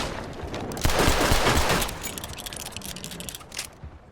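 A pistol is fired rapidly from the hip in a video game, a fast burst of loud crackling shots that thins into scattered clicks and reload-like clatter.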